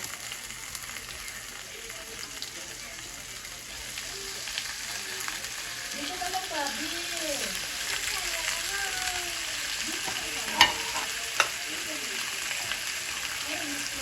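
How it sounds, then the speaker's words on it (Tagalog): Steady sizzling of fish frying in a pan fills the background, with a person talking softly over it and a couple of sharp clicks. "Prito ko na rin po ito mga isda."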